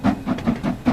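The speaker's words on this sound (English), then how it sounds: "this update that came out recently for the steam trains has really enhanced the sounds of the steam trains" Steam locomotive in the Train Sim World 3 simulator on the Peak Forest Railway, giving rapid, evenly spaced chuffs, about five per second, each with a breathy hiss, close and loud.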